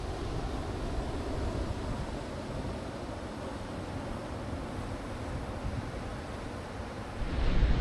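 Ocean waves wash continuously onto a beach in Chile's Atacama, a steady broadband roar of surf with wind that swells louder near the end, no voices.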